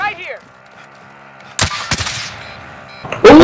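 Call of Duty gunfire bursts out loud and close in quick volleys after a quieter stretch, with a short voice at the start.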